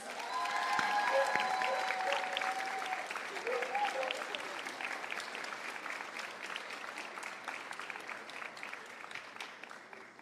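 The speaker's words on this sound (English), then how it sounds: "So please, give them another round of applause." Crowd applause for volunteers at a campus suicide-prevention awareness walk, a broad outdoor clapping that starts loud and slowly thins out over about ten seconds, with faint voices mixed in.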